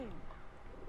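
A pigeon-like bird coos softly in GTA 5 after the player character turns into a bird, a faint short call at the start under quiet game ambience.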